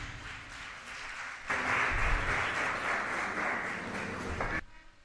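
An audience at a college international conference applauds the chief guest. Scattered clapping quickly swells into a full, steady round, holds for about three seconds and then cuts off abruptly.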